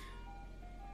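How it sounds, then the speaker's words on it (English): An ice cream truck plays its chiming jingle outside, faint and distant, with thin melodic tones drifting over a low hum of background noise and no voices. "Still an ice cream truck out here"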